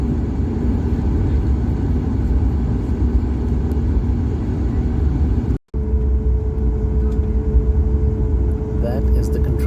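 Low, steady engine rumble from an airliner taxiing toward the runway on a flight out of Phoenix, heard from inside the cabin, with a brief dropout midway and a faint hum continuing afterward.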